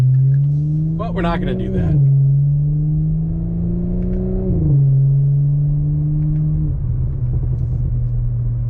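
Revving 2021 Audi S4 fitted with an AWE aftermarket exhaust: a loud, near engine note that climbs and falls in several throttle blips and sustained holds, with a person speaking over it.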